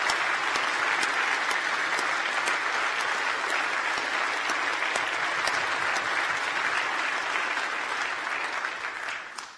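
Steady crowd applause fills a graduation ceremony hall for the new graduates, a continuous wash of many hands clapping at an even, fairly distant level throughout, tapering slightly at the very end.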